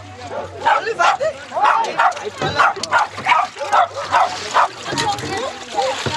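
A dog barks in repeated short bursts on a street in South Africa, fairly close, with people talking over and between the barks.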